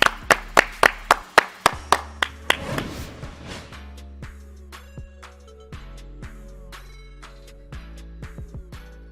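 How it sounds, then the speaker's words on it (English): Rapid, sharp hand claps from a podcast audience, loud and close at first in a quick even rhythm, then thinning into scattered, fainter claps and snaps with a faint tone underneath. "Clap it up."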